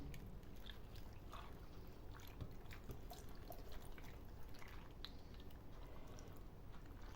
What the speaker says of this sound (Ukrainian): Тут є гарбуз, тут є яблука. Заливаємо молоком.